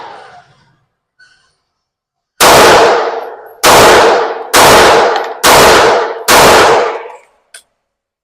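Five loud pistol shots ring out at a shooting range while sights are zeroed on a 25-yard target, each sharp crack followed by a ringing decay, spaced about a second apart after a quiet lead-in.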